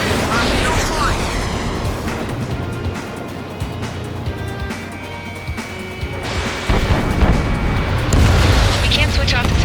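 Explosion in the Ace Combat 7 flight combat game, a loud sustained booming rumble with crackling debris that swells near the end, under radio chatter from game voices.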